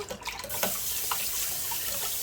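Tap water runs steadily into a sink while baking soda is rinsed away, with a broad continuous hiss and splash that starts a little uneven and settles into an even, close stream with no talking.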